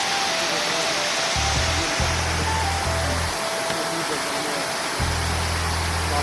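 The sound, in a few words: waterfall in a forest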